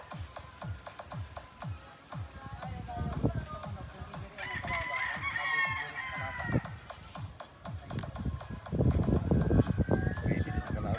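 Roosters at a Filipino cockfight crow and cluck repeatedly, with shuffling, rustling and crowd murmur throughout, and a louder burst of activity near the end.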